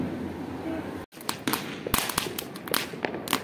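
Firecrackers set off during Diwali celebrations make repeated sharp cracks and pops, several loud bursts in quick succession over a noisy background with voices nearby.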